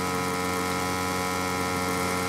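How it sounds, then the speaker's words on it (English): MotoGP bike engine from the game MotoGP 17 revs on the starting grid with a steady, loud, buzzing drone. The pitch holds constant throughout, with no other sounds. "So we'll revs up the engine on the grid."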